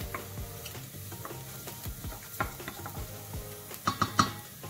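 Garlic fries in olive oil in a saucepan over medium heat, a faint sizzle under repeated utensil scrapes and sharp taps that cluster near the end.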